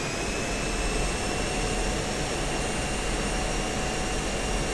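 An F-16 jet engine in the DCS flight simulator roars at a steady, loud, broadband whine with high tonal whistles layered on top, holding constant throughout as throttle is applied for taxiing.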